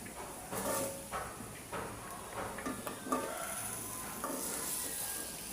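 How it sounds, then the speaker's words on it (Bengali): Taro stolons hit a hot pan and are stirred, a moderate sizzle broken by repeated scraping strokes of the spoon against the pan, close and without talk. "এখন কচুরছড়িগুলো আমি দিয়ে দিব"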